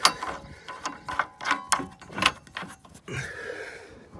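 A ratchet tightens nuts on a receiver hitch being installed on a GMC Savana van, with repeated close metallic clicking bursts, then a longer steady ratcheting run near the end.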